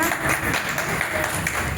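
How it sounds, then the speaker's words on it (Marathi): At a women's association haldi-kumkum gathering in Vaijapur, an audience claps for a participant. The applause is brief, continuous and crowd-wide and fills the room. "सर्वांनी एक वहिनींकरता जोरदार टाळ्या होऊन द्या"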